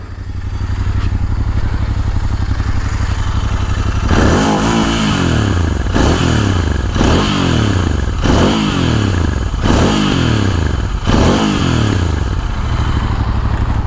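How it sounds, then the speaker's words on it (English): A 2020 Royal Enfield Interceptor 650 BS6 motorcycle idles with a loud, close exhaust burble, then is revved repeatedly in about six rising and falling throttle blips. "So that's the exhaust note of the Interceptor 650 BS6 model. It's quite crispy."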